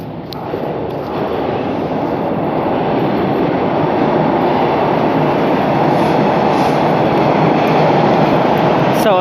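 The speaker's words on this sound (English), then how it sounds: "My train is coming in 1 minute." A train pulling into a station, a loud steady rumble and roar of rolling wheels and carriages that holds throughout, close by with no talk.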